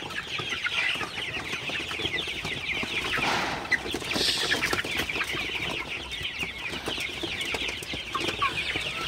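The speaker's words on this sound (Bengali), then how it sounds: "আপনারা দেখতে পাচ্ছেন আমার মুরগিগুলো কিন্তু পানি খাইতেছে" Sonali super hybrid chickens cluck and chatter steadily on a farm while drinking fresh cool water, a dense layer of overlapping bird calls close by with brief wing flutters, no talking.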